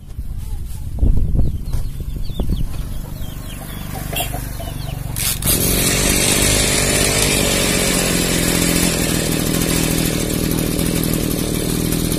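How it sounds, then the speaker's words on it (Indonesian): A knapsack crop sprayer's small petrol engine, after a few brief knocks and rattles, roars to life and settles into a loud, steady, high buzzing drone close by. "Mesinnya cukup oke, langsung breng."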